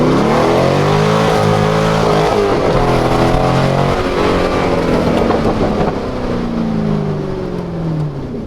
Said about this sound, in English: It obviously has the LS engine in it, which is the LS2.